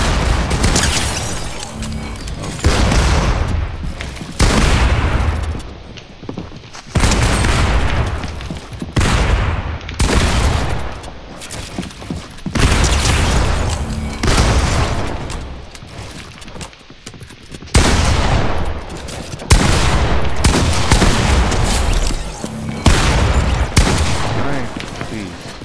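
Video game gunfire blasts loudly and almost nonstop, in rapid repeated volleys and booming bursts lasting the whole stretch with few pauses.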